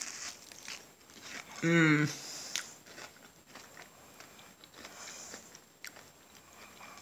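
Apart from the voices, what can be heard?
biting and chewing a slightly burnt apple fritter bite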